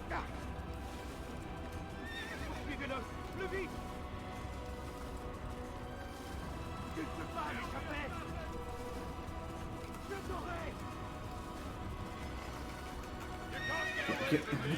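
Horses neigh several times at intervals in Assassin's Creed, with hooves clopping beneath a steady background hum and faint voices.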